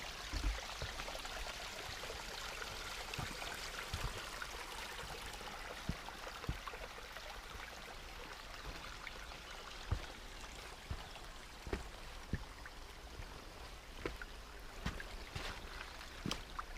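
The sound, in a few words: stream at waterfalls on Black Forest hiking trail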